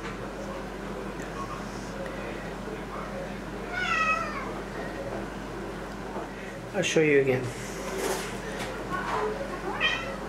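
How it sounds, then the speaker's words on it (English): A house cat meows a few times, wanting to go out, with two or three drawn-out, moderately close cries separated by pauses, while a person speaks briefly and a low hum runs underneath. "The cat wants to go out."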